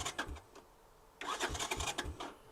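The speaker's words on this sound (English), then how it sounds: "Let's see if it'll turn the motor over." A Honda ATC three-wheeler's starter cranks in quick, rhythmic chugging bursts, quiet and a little distant, without the motor catching.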